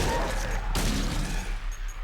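A handgun fires in Silent Hill, one sharp loud shot cracking out mid-clip over a low rumbling game backdrop, with a brief player voice nearby.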